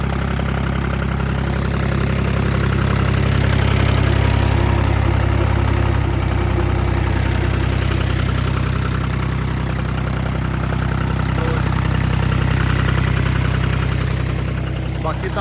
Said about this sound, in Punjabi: ਪੂਰੇ ਵੀ ਚਲਾਤਾ ਜਨਰੇਟਰ ਅੱਜ 265 ਨਾਲ